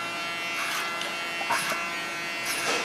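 An electric hair clipper buzzes steadily in a barbershop, with short bursts of louder cutting strokes through hair repeating every second or so, close and alone.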